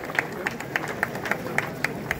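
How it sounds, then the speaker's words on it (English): A group of students at a school event clapping in an evenly spaced rhythm of about eight claps, with faint crowd murmur underneath. "Let's clap for the cake."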